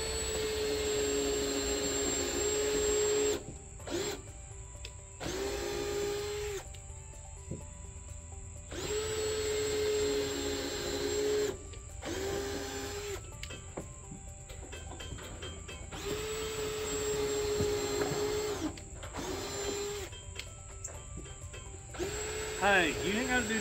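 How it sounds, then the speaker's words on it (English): A power drill whines in repeated bursts drilling pilot holes, starting and stopping several times, with steady hiss and people talking intermittently nearby. "now we're gonna start drilling the pilot holes"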